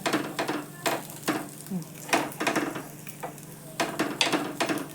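Rava appe made from semolina upma batter roast in an appe pan on their second side, a soft sizzle beneath repeated close scraping and clinking of a spoon against the metal pan.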